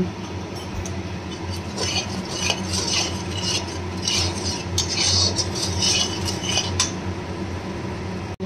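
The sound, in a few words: stirring and sautéing spices with turmeric and salt in pan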